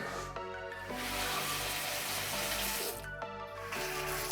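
A steady stream of water runs and splashes into a pan of lemon-dressed mushrooms for chicken fricassee nearby, with faint tonal clinks and a brief lull partway through.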